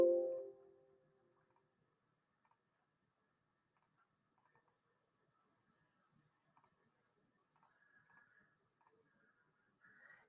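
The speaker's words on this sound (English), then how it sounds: "So we just need to type this into the calculator." Calculator keys are pressed one at a time to enter a trigonometry calculation. Soft, sparse clicks come irregularly against near silence.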